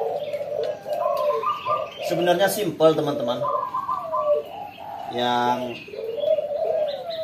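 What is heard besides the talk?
spotted dove (derkuku/tekukur) cooing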